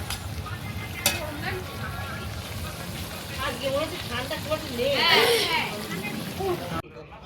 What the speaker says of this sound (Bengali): এই তো সবে কষানো শুরু হলো